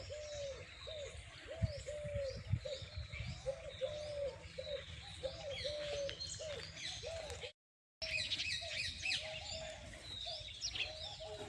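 Pigeons coo in a steady repeating rhythm while other birds chirp and twitter around them in banyan trees at a Gujarat temple, fairly close, with a brief gap of silence partway through.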